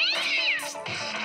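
A kitten meows in a drawn-out, high, wavering cry followed by a second shorter mew, close and fairly loud with no talk.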